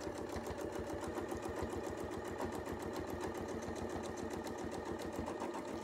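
A domestic sewing machine runs steadily, stitching the wing of an angel on a Christmas quilt with a fast, even needle rhythm, close up and uninterrupted.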